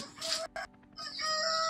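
A village rooster crows in a tea-garden setting near Darjeeling, a loud, close call with a brief break partway through, rising again into a sustained drawn-out note with no talking.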